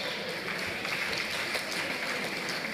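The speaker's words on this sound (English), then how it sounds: "I'd like to call for a round of applause for a fantastic panel and moderation" An audience at Bishop Matthew Hassan Kukah's 70th birthday event applauds a panel and its moderation with continuous, even crowd clapping, no voices standing out.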